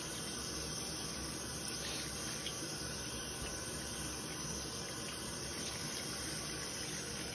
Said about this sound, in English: now you're going to rinse off the soap with the water